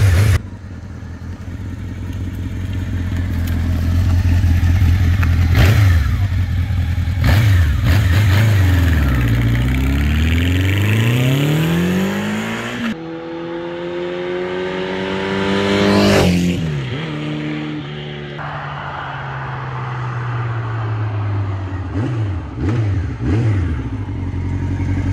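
A 1984 Honda Nighthawk S motorcycle engine runs loud and close, revving up and down repeatedly with rising and falling pitch sweeps, idling between blips.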